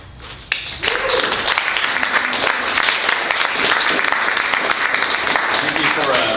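Audience at a book reading at Malvern Books bursts into loud, dense applause after a brief quiet moment, the clapping holding strong and close for several seconds.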